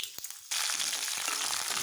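Chana dal dropped into hot sesame oil with mustard seeds and fenugreek for a Tamil kuzhambu, setting off a sudden steady crackling sizzle after a few soft taps, close and continuous, with no talking.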